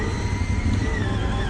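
A CF Moto 800 XC motorcycle engine hums steadily while riding with the throttle tapped, a close, even drone mixed with road and wind noise and no talking.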